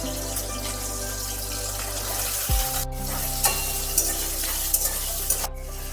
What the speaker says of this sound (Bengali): আলু ভাজার পর এই তেলের মধ্যে গাজর কিছু পরিমাণ ভেজে নিচ্ছি।